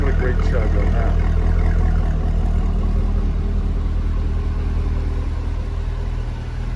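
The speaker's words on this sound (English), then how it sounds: "Listen to that exhaust. What a great chug on that." A 2007 Chevrolet Corvette Z51 idles close by, its exhaust giving a deep, steady, loping chug with a faint rise early on, while someone talks over it.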